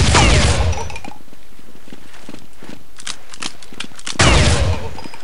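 Shotgun blasts in Counter-Strike 1.6: a loud, close boom opens, then quick clicks and clatters of reloading and footsteps follow before a second heavy blast near the end.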